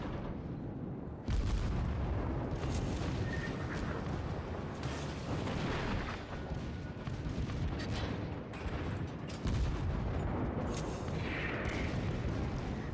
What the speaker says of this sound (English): Smaller explosions can be heard as the secondary batteries open fire.